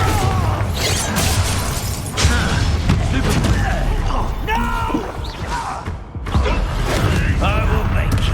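A Bombarda spell explodes in Hogwarts Legacy during a fight in a haunted Hogsmeade shop, a loud booming burst with shattering debris amid dense game noise, while voices shout spells over it.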